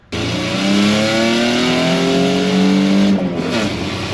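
A 1992 Nissan Pathfinder on a test drive after a torsion bar re-index and cheap lift, its engine loud and steady as it climbs through the gears, the drone rising, then easing off near the end.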